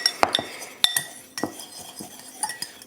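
A spice rub with cayenne for tri-tip is stirred in a bowl with a utensil, making irregular clinks and scrapes that come in quick clusters at close range.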